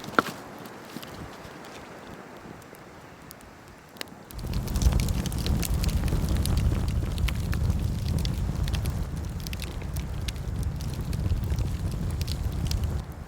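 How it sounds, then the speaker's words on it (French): A campfire under a night sky where people wait for the northern lights crackles with scattered sharp pops over a low roar. A few quiet seconds come first, then it turns louder and steady. "C'est autour d'un feu de camp que nous patientons en observant le ciel"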